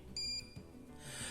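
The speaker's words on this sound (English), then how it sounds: "If we want to hear a beep once again, we reverse the probe" A multimeter gives a short continuity beep while probing a drone flight-electronics board, a single clean high-pitched tone lasting a fraction of a second, faint and alone amid quiet handling noise.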